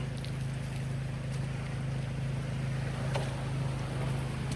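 Small gold dredge engine running at a mining camp in Alaska, a steady droning hum with no change in pitch, close and continuous, with water noise around it and no voices.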